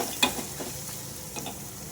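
Garlic paste with curry leaves frying in a hot pan, a soft steady sizzle broken by a few scraping stirs and light clicks, heard close with no speech.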